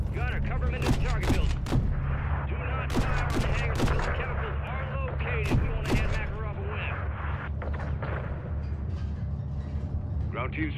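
Gunfire pours onto a hangar in the Modern Warfare 3 campaign, with repeated sharp bursts and heavy reports in irregular clusters over a low rumbling drone, fairly close, as radio voices talk over the action.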